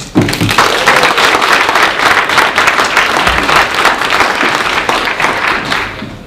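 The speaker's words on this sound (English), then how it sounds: "So I think it's a good time to give them all a round of applause." An audience claps for the candidates at a Meet the Candidates public forum in Pecos County, and the applause stays dense and steady for several seconds before it begins to thin out.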